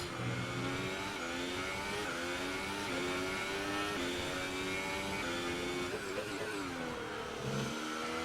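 Racing car engine in the F1 2018 video game, Russian round, holding a steady high revving drone with shifting pitch throughout, loud and continuous with no talk over it.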